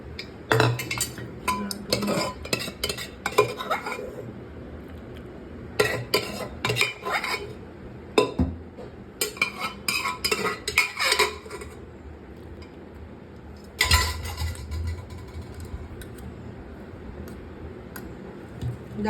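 Metal utensils clink and scrape against a pot as cooked mutton is poured and stirred, irregular clusters of sharp clatter with short quiet pauses between them, close up.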